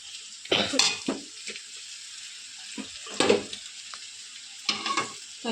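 Chicken noodles with red chilli sauce and vinegar are stirred in a pan over a faint sizzle, with several short bursts of scraping and wet tossing separated by quieter gaps.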